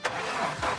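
Old Mazda pickup engine cranking and catching, a short close burst of starter and engine noise that swells again near the end as it revs.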